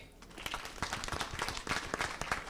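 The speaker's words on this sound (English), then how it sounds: "Please, a big applause for them as well." An audience at a youth climate adaptation event applauds young leaders and Youth Adapt winners, a brief burst of close, crisp clapping from a modest crowd.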